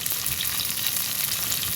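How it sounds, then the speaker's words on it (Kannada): Thinly sliced onions fry in hot oil for egg biryani, giving a steady, close, even sizzle with no talking. "ಸೊ ಬೇಗ ಈರುಳ್ಳಿನ ಹಾಕ್ಕೊಳ್ಳಿ ಎಣ್ಣೆಗೆ, ಓಕೆನಾ?"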